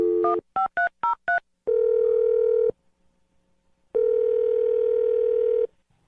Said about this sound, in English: We're gonna call Kate and dial her phone number right now.